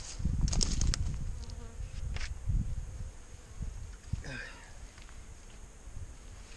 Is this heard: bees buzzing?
yes